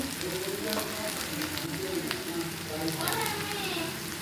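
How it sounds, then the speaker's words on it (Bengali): Potatoes and onions frying together in a pan, a continuous crackling sizzle with light stirring and scraping of the pan, and a voice speaking faintly beneath it. "এটা ভালো করে আলুর সাথে পেঁয়াজটাকে ভেজে নেব"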